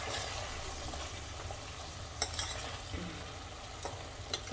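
Potato and besan sabzi gets a gentle stir in a pan, a soft continuous sizzle overlaid with a few light scraping strokes of a spoon, close and fairly quiet.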